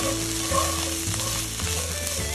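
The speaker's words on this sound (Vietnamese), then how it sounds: "Giờ mình thử cho cái phần xôi vào như nghe cả nhà nha." Sticky rice with diced carrots being stir-fried in a pan, a steady close sizzle with scraping and stirring of the spatula, no voices.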